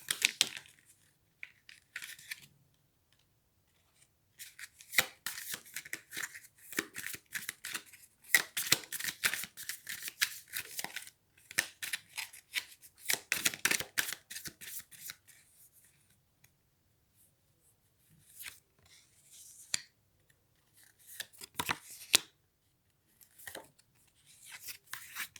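Tarot cards shuffled and drawn, quiet rapid riffling and flicking in bursts with short pauses, soft papery slaps and rubs close by, no voice.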